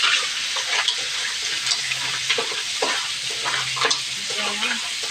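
Seafood sizzles and spits steadily in a hot pan while a utensil scrapes and stirs it in repeated strokes, close and fairly loud, with no voices over the frying.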